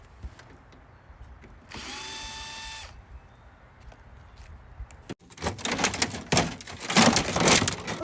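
A power drill whirs steadily for about a second, followed after a pause by loud, rough mechanical grinding and rattling as the drill breaks.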